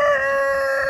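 Chickens at a cabin in the woods, with a rooster crowing in a single sustained, loud, close call that fills the whole moment.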